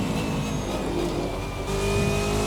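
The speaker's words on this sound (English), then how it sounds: "You've probably taken note of the engine sound by now." Race Sim Studio Hyperion 2020 race car in a racing video game, its engine holding a steady high, buzzy drone that swells slightly near the end, loud and continuous with no talking.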